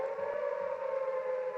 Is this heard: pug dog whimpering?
no